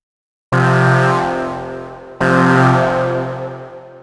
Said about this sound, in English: There's also a reverb.